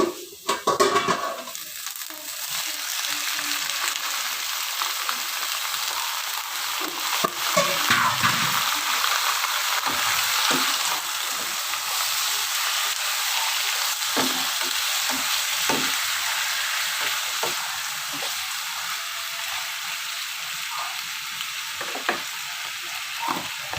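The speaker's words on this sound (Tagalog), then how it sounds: "pwede natin ilagay ang ating 1 kilong pusit" One kilo of squid fries in a hot pan for adobong pusit. A dense, continuous sizzle runs throughout, with occasional clinks and stirring scrapes against the pan.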